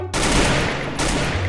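A SCAR rifle in the game Free Fire fires at an opponent's head: a loud, close burst of rapid gunshots running about a second and a half, with a brief break partway through before the firing resumes.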